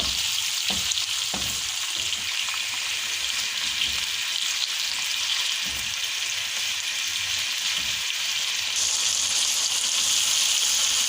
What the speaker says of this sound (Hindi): अब हम इसको तकरीबन 1 मिनट के लिए फ्राई कर लेंगे ताकि हमारे टमाटर जो हैं वो अच्छे से नरम हो जाएं